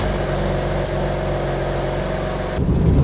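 BMW M4 CS with a stainless steel exhaust drones at a steady, low, throaty engine tone while cruising, then swells a little louder near the end.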